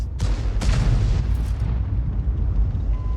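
Shell impacts in World of Tanks from an Object 261 artillery piece: two sharp booming hits near the start, then a long rumbling decay that fades away with no one talking.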